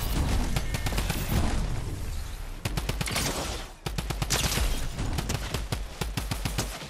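The Mythic Drum Gun fires in long, rapid automatic bursts in a battle royale game, dense and loud with booming impacts mixed in and a brief pause midway.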